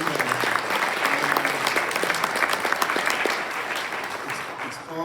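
Applause rises from the audience at a community eruv opening celebration, dense and steady clapping that carries throughout with a voice faintly under it.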